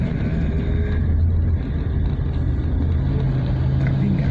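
Long traffic jam on Jalan Sukarno-Hatta in Palembang, a continuous low rumble of idling and creeping engines, steady and close, with no talk.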